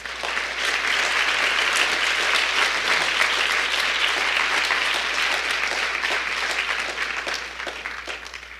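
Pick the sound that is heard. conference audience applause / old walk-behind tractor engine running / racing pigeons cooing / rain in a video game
conference audience applause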